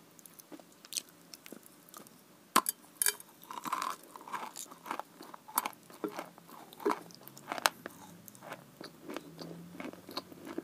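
Crispy desserts being bitten and chewed up close in an ASMR mukbang, with sharp, irregular crunches and crackles repeating over about ten seconds, with no talk.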